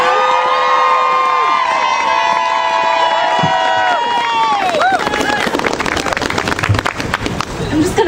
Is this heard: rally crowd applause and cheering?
yes